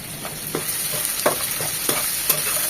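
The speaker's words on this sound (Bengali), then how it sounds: "এখন সব কিছু একটু সতে করে নেব।" Tomato, onion and green chilies sauté in a pan for a mutton roast fry, giving a steady close sizzle broken by several soft scraping stirs at irregular intervals.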